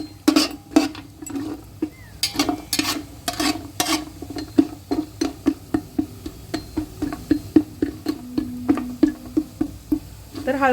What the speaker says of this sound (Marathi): तर हळकुंड हे छान असं तळून होतंय आता.